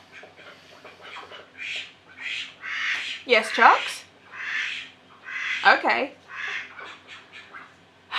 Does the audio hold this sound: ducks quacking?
yes